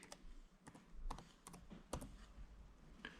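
Keys tapped on a computer keyboard in short, irregular clicks, a few quick bursts with pauses, close and fairly faint, no voices.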